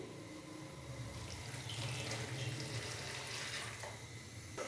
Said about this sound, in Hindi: और साथ में मैं इसके अंदर डालूंगा 1 गिलास के करीब पानी।